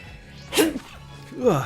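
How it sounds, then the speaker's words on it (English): A single sharp human sneeze bursts out mid-clip amid low room noise, with a short vocal sound trailing afterward. "I gotta sneeze."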